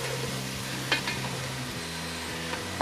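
Pork soft bone stir fry with sesame oil, garlic, ginger, onion and soy sauce sizzles steadily in a pot, with a low hum underneath and a few sharp clinks of the utensil against the pot.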